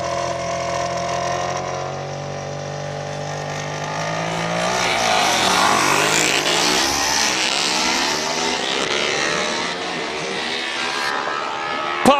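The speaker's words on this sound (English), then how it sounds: "All the way up the hill, once again, single-seater, super lightweight, able to take corners at speed" Super-lightweight single-seater race car, KTM-powered, climbing a hill course at a King of the Mountain event in Cape Town, engine rising and falling through gear changes as it accelerates past, loud and close.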